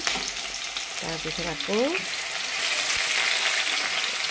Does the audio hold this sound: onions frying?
yes